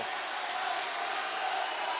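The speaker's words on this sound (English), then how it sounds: "Oh, listen to this crowd." A packed high school volleyball crowd roars in a gym, a steady, dense wash of cheering that holds without a break.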